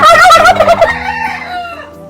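Turkeys gobbling loudly and close in a free-range backyard flock with chickens and ducks, one rapid warbling gobble call followed by softer clucks and fowl calls trailing off.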